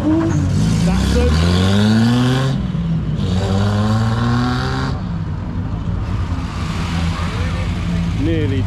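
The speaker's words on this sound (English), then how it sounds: "Nearly did a wheel spin." A car accelerates hard away from a pub car and bike night, its engine note rising and falling through gear changes, loud and close, with voices talking over it.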